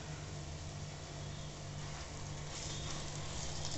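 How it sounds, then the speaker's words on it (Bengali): Ingredients frying in oil in a steel wok give a steady, dense sizzle with a faint hum beneath, even and unbroken throughout, close and fairly quiet. "এটা খুব ভালো করে আমি ভেজে নেব"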